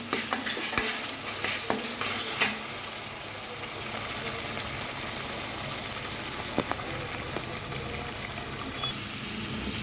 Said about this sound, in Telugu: ఉల్లిపాయ, మసాలా దినుసులు, అల్లం, వెల్లుల్లి గ్రైండ్ పట్టుకున్న ముద్దని ఇందులో వేయాలి. ఇందులో వేసి బాగా ఫ్రై చేసుకోవాలి.